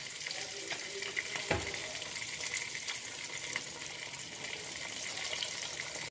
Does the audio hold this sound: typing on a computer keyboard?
no